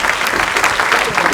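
Applause for award-winning interns called onto a stage, a short burst of steady, dense clapping from an audience, close and loud.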